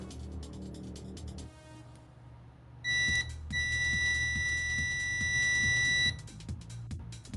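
A cheap HANMATEK S1 auto-ranging multimeter in continuity mode sounds a steady, bright electronic beep for about three seconds over a low background hum, with a few softer chirps just before.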